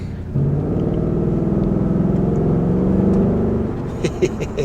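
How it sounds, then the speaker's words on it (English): A Ford Mustang is driven with a steady, loud low engine drone and road rumble from inside the car, ending with a few clicks and light knocks. "In the meantime, driving the Mustang."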